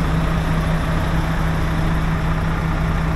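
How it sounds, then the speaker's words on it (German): A truck's diesel engine turns over and settles into a steady low idle, a constant rumble with a strong low hum, close and unchanging throughout with no talk. "Motor darf schon mal ein paar Kurbelumdrehungen machen."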